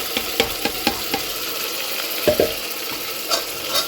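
Tomatoes drop into a hot, slightly over-browned tadka for white chole and sizzle steadily, with sharp clicks and scrapes of a spoon stirring the pan close by, ending in a brief louder burst.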